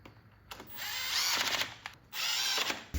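A power tool drives a chain rivet tool to mushroom a link pin on a BMW F650GS/F700GS/F800GS motorcycle chain, two loud whirring bursts with a brief pause between, close and without talk.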